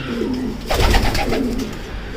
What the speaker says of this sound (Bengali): এগুলো সব অনেক অনেক ভালো কবুতর আশিক ভাই আমাদেরকে দিছে